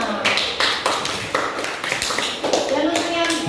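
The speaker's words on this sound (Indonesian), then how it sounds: "Tepuk tangan untuk kelompoknya Mas Bima" Classroom applause for a student group after their presentation, a burst of scattered hand claps from a class of pupils with sharp taps over a busy room and voices mixed in.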